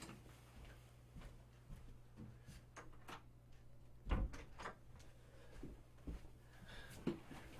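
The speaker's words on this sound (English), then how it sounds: "I'm going to shut my door." Scattered knocks and clicks of a door being handled and shut indoors, with a louder thud about midway and a few lighter taps after, all fairly faint over a low background hum.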